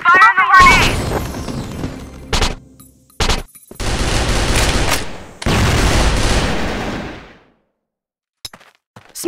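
Loud video-game gunfire and explosive bursts in several broad blasts, including a grenade detonation, separated by short gaps, with a shouting voice at the start and a few faint clicks trailing at the end.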